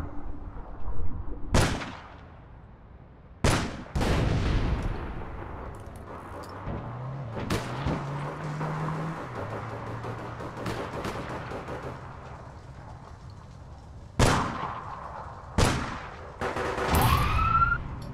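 Scattered, sharp gunshots crack out in the online shooter game APB Reloaded. They come as a handful of loud, isolated bangs spread across a steady background rumble of engine-like game noise.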